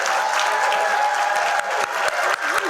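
Dense audience applause at a press event introducing Michael Vick as Norfolk State's head football coach; steady, loud clapping fills the room throughout and thins slightly toward the end.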